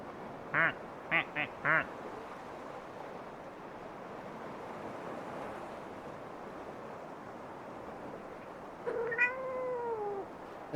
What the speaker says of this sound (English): And one duck meows like a cat.